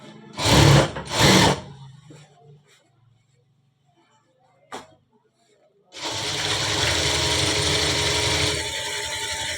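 An electric sewing machine runs double stitching along a full-sleeve shirt, a loud steady whirring burst that continues to the end after a few short mechanical clatters and brief pauses.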